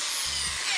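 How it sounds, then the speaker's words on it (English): Power drill boring a hole in a plastic bubble-tea cup, a short steady high-pitched whine with a low motor hum underneath, close and continuous for under a second. "is to drill a hole in this cup."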